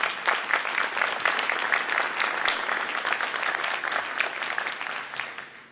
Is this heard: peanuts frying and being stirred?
no